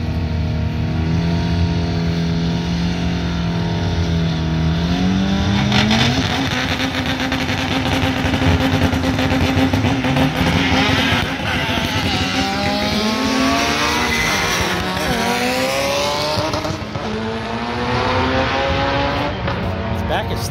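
An import drag race car revs and shifts at a Bakersfield drag racing event, its loud engine climbing in pitch, dropping at each gear change and climbing again, with people talking beneath the roar.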